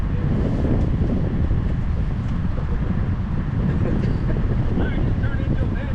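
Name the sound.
wind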